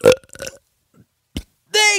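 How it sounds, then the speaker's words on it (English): A wet, gurgling belch bursts out loudly and close, with a short voiced segment before it and a brief gap of silence, ending in a long, drawn-out burp. "a stinky wet belch"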